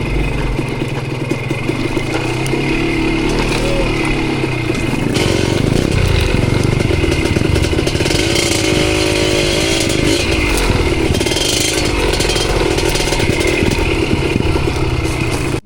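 Motorcycle engine running steadily on a steep downhill mountain trail, loud and close throughout with a rough, clattering mid-range drone that grows fuller and more strained about halfway through.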